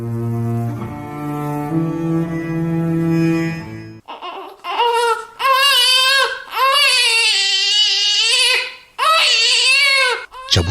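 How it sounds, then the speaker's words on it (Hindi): An infant wails loudly in long, rising and falling cries broken by brief gasps. A sustained tonal music passage comes before the crying. "और एक बच्चे के रोने की आवाज आ रही है।"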